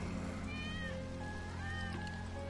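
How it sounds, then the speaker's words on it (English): Several plaintive cat meows from the video game Final Fantasy VII sound in quick succession, moderately loud over a continuous low ambient hum from the game. "That's Wedge's cat."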